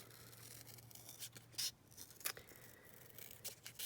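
Scissors snip out a paper circle for a journal card, giving quiet, irregular crisp cuts and rustles at close range with no talking.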